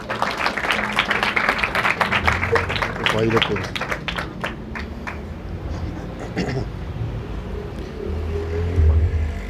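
Congregation at a Sunday worship service clapping vigorously in praise, a steady rhythmic clatter that fades midway, leaving background murmur and a low rumble beneath.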